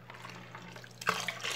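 Homemade liquid detergent made from bar soap is stirred. A faint watery murmur gives way to a close slosh and splash of liquid partway through, then continued swirling.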